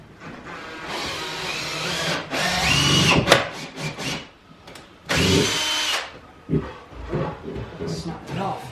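A power drill drives screws into floorboards during a house renovation, with loud whirring bursts that start and stop several times, close by, and speech mixed in between.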